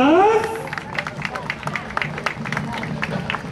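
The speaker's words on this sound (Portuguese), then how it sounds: "uma salva de palmas!" A crowd claps for the Corporação Musical Lyra de Mauá band at an outdoor band parade in Nova Odessa, with dense, ragged applause and a loud voice speaking over it near the start, plus cheering and babble in the background.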